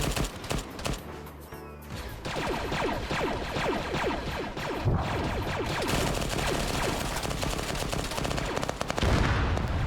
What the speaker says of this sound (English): One of them's literally using a laser gun.